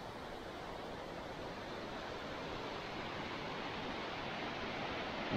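A mountain river rushes below a bend in a mountain road in Dagestan, a steady broadband roar of flowing water with no voices.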